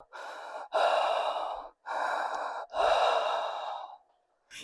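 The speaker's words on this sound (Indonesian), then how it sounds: "Hanya terdengar suara nafas berat dan terengah-engah" Heavy, ragged breathing close up: four long, loud, rasping breaths in and out with short pauses between them, and no other sound.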